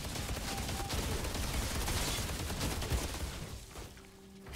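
Dense rattling gunfire and bursts of explosions from the video game Outriders, loud and continuous at first, then easing off into quieter game sound near the end.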